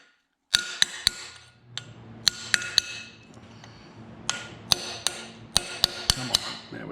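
Sharp metallic hammer blows drive a one-sided chisel under the flywheel of a Farmall Super C engine, a dozen or so close, irregular strikes ringing over a faint background.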